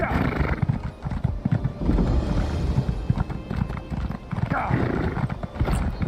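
Horse hooves clip-clop steadily in The Elder Scrolls Online, with a whinny rising partway through, under someone talking throughout.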